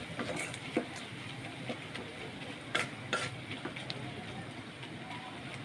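Onions sizzling and frying in a pan while being stirred, a steady close hiss with occasional utensil scrapes and clinks running throughout.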